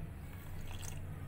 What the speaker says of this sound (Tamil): இதில் 4 ஸ்பூன் தண்ணி போல் ஊற்றிக்கலாம்.